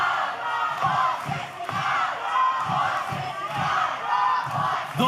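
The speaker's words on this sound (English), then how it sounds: "Listen to this crowd." A wrestling crowd at an OVW live event chants and cheers in a loud, rhythmic, repeated call that rises and falls in regular pulses, filling the hall with massed voices.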